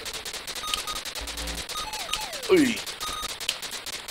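Rapid electronic gunfire bursts from the 1987 MSX video game Bombers, sharp chiptune-like shots repeating throughout with sweeping bleeps and a descending tone, while a man briefly exclaims.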